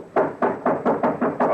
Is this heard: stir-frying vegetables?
no